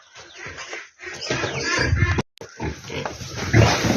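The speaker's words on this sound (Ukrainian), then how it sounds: "Там поросята малі б'ються." Piglets squeal and grunt in a busy, overlapping scramble, loud and close, with a brief pause midway before the racket resumes.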